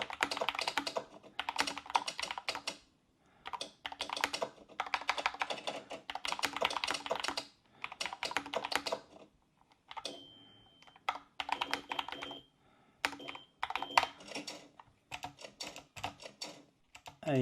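An app mimics typewriter keystrokes while someone types on a Qwerkywriter keyboard. Close clacking runs in bursts separated by short pauses, with an occasional bell-like ding near the middle.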